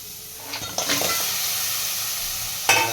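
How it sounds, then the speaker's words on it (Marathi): Crabs drop into hot oil with turmeric, chilli and masala spice tempering, setting off a sudden loud sizzle with a few sharp clatters and a steady hiss close by. "आता आपण हे खेकडं त्याच्यात फोडणीवर टाकतो."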